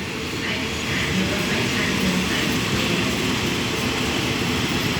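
Ordinary passenger train 254, running Lang Suan to Thonburi, pulls out of Taling Chan Junction station in Thailand with a loud, continuous rolling rumble that holds steady for the whole stretch, heard close by.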